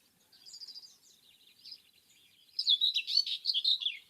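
Scratchy whitethroat song in scrub and hedgerow habitat: a faint, quiet warbling phrase gives way to a louder, busier burst of rapid chattering notes near the end, with no voices.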